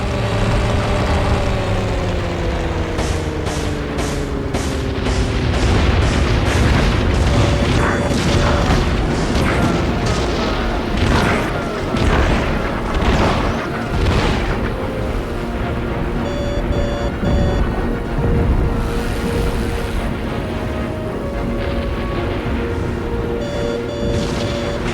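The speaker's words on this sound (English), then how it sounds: "Commence rocket attack." Rocket attack explosions in the Heroes of the Pacific air combat game, a steady roar of aircraft engines with a rapid series of booming impacts and crashes layered over it.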